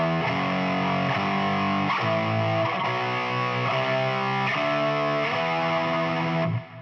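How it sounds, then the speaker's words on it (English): A distorted electric guitar plays power chords stepping through the E Aeolian scale, loud and sustained, each chord ringing about a second before shifting to the next, then cut off at the end, with no voice. "If you played the entire scale with power chords, it would sound like this."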